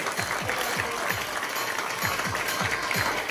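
Steady, loud applause from an audience at a felicitation event honouring Kimaya Laxman Dahihande, with regular rhythmic clapping that runs the whole clip without any speech.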